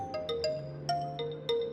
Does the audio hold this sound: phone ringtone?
yes